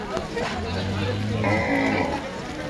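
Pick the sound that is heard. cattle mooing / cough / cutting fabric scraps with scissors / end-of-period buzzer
cattle mooing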